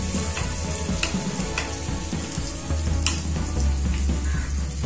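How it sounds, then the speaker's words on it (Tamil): Ginger and finely chopped garlic sautéing in a pan for moong dal khichdi, a loud continuous sizzle with scattered clinks and scrapes of stirring, no talk. "இப்போ இதெல்லாம் நல்லா வதக்கிக்கலாம்"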